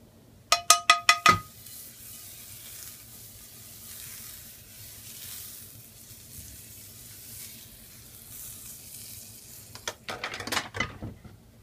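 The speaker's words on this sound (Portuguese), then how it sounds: "Vamos esquentar bastante nossa frigideira para preparar nossas massas para panqueca." About a teaspoon of butter sizzling in a well-heated frying pan before pancake batter goes in: a steady low hiss bracketed by bursts of metallic clinking from utensils at the start and near the end, no speech.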